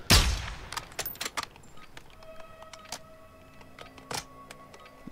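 Gunfire in the video game Warzone: one loud, close shot opens the sequence, then scattered fainter shots and mechanical clicks follow at irregular intervals.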